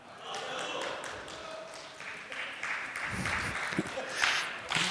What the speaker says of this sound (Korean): 아니, 박수가 이렇게 약해 되겠어.